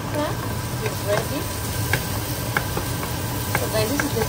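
A spoon stirs Nigerian okra soup with tomatoes and meat in a pot, producing soft scraping and wet clinks against the metal over a bubbling sizzle, with scattered knocks and background voices.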